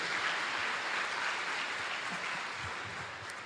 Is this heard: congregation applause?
yes